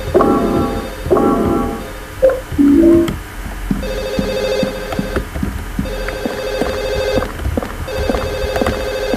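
A telephone rings repeatedly in the Silent Hill video game, evenly spaced electronic rings sounding over a rumbling ambient backdrop after a few louder tonal hits at the start.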